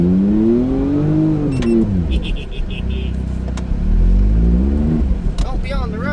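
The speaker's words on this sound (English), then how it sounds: "I'm in a smart car. Anyways, we're gonna just cruise for a little bit" A Smart car cruising along a snowy road, its engine humming and rising in pitch as it moves, with a person talking over it and a few clicks and squeaks from inside the cabin.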